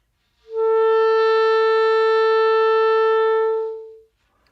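A clarinet holds a single long, steady B, clean and close with a soft onset and a smooth taper at the end, isolated in quiet surroundings.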